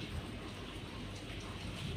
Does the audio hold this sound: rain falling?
yes